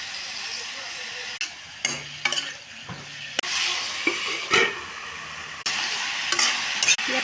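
Cauliflower frying with turmeric in a pan gives a continuous close sizzle and hiss, broken by occasional spatula scrapes and knocks against the pan, with faint talk in the background.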